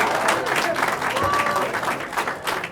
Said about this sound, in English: Now, I need your support in the thunderous applause